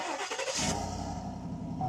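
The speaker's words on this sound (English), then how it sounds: "That's the engine makes that noise. That's a bearing noise in it. That's a tick, tick, tick, tick, tick, tick." GMC pickup truck engine cranking to life, then idling with a steady rapid ticking and a low grinding undertone from a bad bearing, loud and close, no voices.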